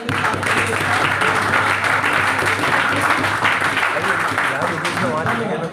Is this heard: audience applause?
yes